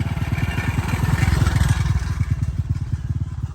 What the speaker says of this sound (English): So here comes the bike.